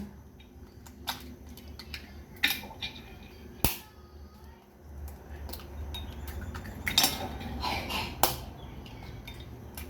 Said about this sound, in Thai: ปีไข่ไปก่อนค่ะเพื่อน